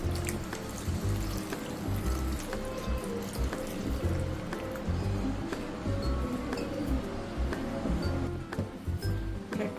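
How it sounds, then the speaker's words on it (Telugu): Homemade butter, churned for making ghee, is rinsed with water: steady close sloshing and splashing of water runs continuously without pause, like a sink being filled, with no talking. "ఈ వెన్నని మనం 2 సార్లు వాటర్తో వాష్ చేసుకోవాలి."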